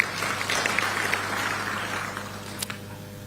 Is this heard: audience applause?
yes